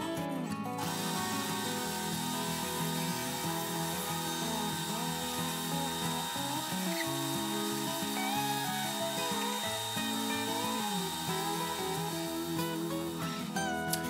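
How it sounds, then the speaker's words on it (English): Continuous whirring of a drum sander on a drill press smoothing rough wood edges, its tone wavering slightly as the work moves back and forth. "plunge the drum sander and run back and forth just to smooth"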